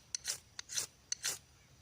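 A knife's square-edged spine scraped along a ferro rod to throw sparks, heard as three close, crisp rasping strokes, each opening with a small tick and then a short, bright scrape.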